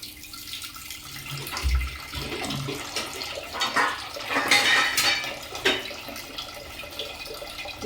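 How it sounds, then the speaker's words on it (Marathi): Water runs and splashes into a metal pot, with clanks of cookware and a few clattering knocks mixed in, close by. "त्यात पाणी घेऊया"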